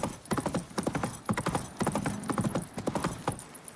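Hooves clip-clop in a quick, steady trot in the video game The Witcher, loud and close, with a brief snort or whinny-like sound partway through.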